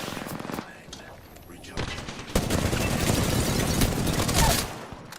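Gunfire in the video game Apex Legends, loud rapid bursts and sustained automatic fire with dense crackling volleys that swell toward the end, mixed with game effects and no one talking.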